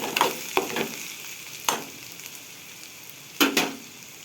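Onions with salt, chili and turmeric frying in a pan, a low sizzle broken by several sharp scraping stirs of a spoon at irregular intervals, close and without talk.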